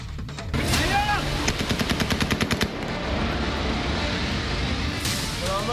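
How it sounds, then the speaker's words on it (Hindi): Gunfire in Afghanistan: a rapid burst of about a dozen automatic shots rings out over loud, rumbling outdoor background noise, followed by a scattered later crack. "गोलियों की आवाज सुनाई दे रही है।"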